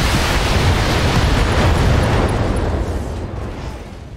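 Mech weapons firing in the BattleTech video game: a dense, roaring barrage of booms and bursts that stays loud for about three seconds, then slowly thins and fades.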